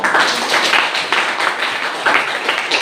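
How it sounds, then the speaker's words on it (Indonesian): A classroom of students claps together in a steady, dense burst of applause, close and fairly loud, continuing evenly for a few seconds without speech. "tepuk tangan"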